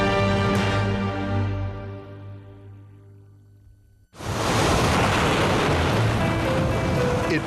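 Pacific Ocean surf along the California coast breaks in abruptly as a loud, steady wash of waves after fading musical tones, continuing without pause to the end.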